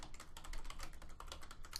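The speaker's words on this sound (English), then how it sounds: "typing in a term" Rapid, steady typing on a computer keyboard as a search term is entered, with light close clicks in an even patter throughout and no talk.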